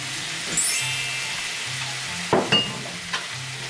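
Filipino breakfast dish with a little vinegar simmering and sizzling in a pan: a soft steady sizzle with a few sharp utensil clinks and stirring scrapes.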